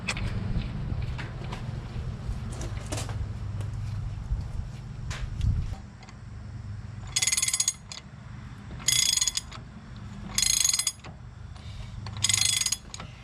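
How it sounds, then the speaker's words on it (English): Axle nut on a Chevrolet Tahoe wheel hub being tightened, with mechanical rattling and clunks early on, then four bright, rapid ratchet bursts spaced a second or two apart, close and clear. "We'll get the nut on here, the axle nut, and we're gonna torque it down to 177 foot-pounds."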